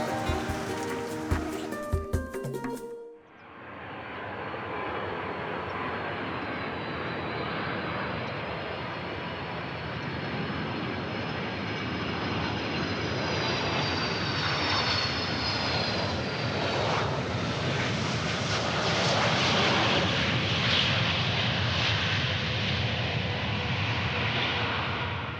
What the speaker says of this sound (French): Parti de Papeete 1 heure plus tôt, l'avion dans lequel ont embarqué Ulysse et Roméo arrive à Rangiroa